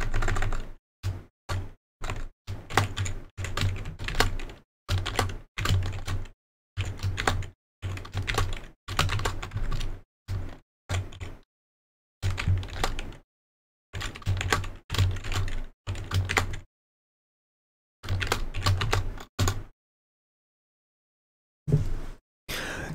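Keys clack in quick bursts on a computer keyboard as a new user password is entered on a Windows Server machine, close and clear, with short pauses between runs of typing and no talking.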